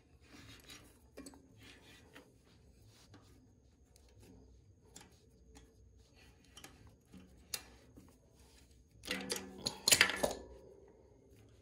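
Metal tools clink and scrape on a bicycle cassette as the lockring is worked loose, with sparse close clicks and ratcheting and then a louder burst of grinding metal near the end.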